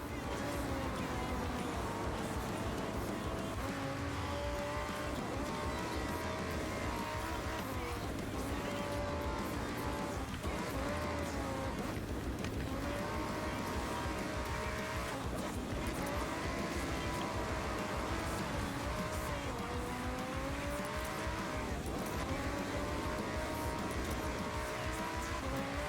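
A powerful Lamborghini engine roars continuously at close range on a mountain road in Japan, revving up and down through gear changes, with occasional voices underneath.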